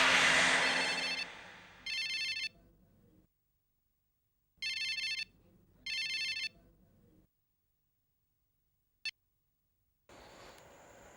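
A telephone rings in short electronic bursts, three separate rings with silences between, after a loud rushing noise at the start.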